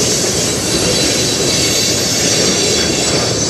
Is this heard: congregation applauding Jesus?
no